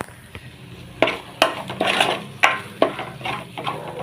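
A spoon stirs turmeric and salt into chili-spiced contents of a cooking pan before crab goes in, giving a series of close, sharp scraping strokes, about seven in four seconds, over a soft sizzling background.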